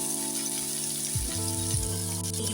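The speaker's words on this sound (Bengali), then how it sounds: "যতক্ষণ সবজিটা ভাজা হচ্ছে" Potato and cauliflower frying in a pan for a spiced cauliflower curry, a steady close sizzle with a low background hum running through it, no voices.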